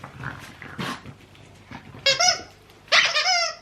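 A dog gives short yelping barks and whines in bursts, two sharp loud calls near the end, with rustling and movement around it.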